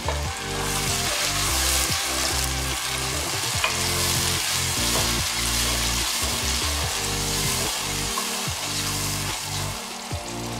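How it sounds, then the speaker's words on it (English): Blended tomato and pepper hit a hot pot for Ghanaian okra stew, sending up a loud, dense, continuous sizzle and bubbling that carries on without talk, with some stirring clatter mixed in. "It's time to add my blended tomato with pepper that I blended"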